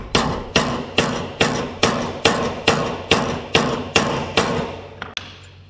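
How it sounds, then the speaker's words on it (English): Steel hammer tapping a rocket socket on the rusted-in spark plug of a long-idle Wheel Horse garden tractor, about eleven sharp, evenly spaced metallic blows ringing close and loud, ending with two lighter taps. "Give this a little tappy tap."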